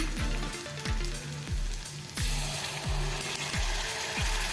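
Yogurt and spice masala for a cauliflower curry fries in a pan with a steady close sizzle, broken by regular rhythmic scraping ticks roughly every half second as it is stirred, with no talking.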